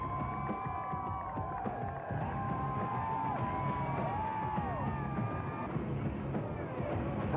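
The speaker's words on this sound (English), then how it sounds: "the glorious sound of the fans at the finish" A large crowd of fans cheers and whoops at the finish of a women's Olympic mountain bike race in 1996, a steady dense roar with rising shouts and whistles, heard at a distance throughout.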